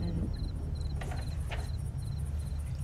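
Crickets chirp in repeated short, evenly spaced bursts over a steady low ambient hum in the German release of the video game Black Mirror 2, with a couple of brief faint rustles in between.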